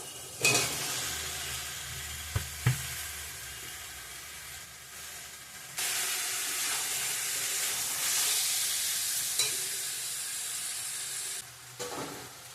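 Jackfruit and shrimp frying in oil in a pan, a continuous close sizzle and hiss with a few scrapes and knocks of stirring, the sizzle swelling louder partway through.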